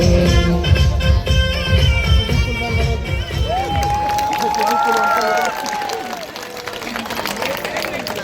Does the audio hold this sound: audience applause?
yes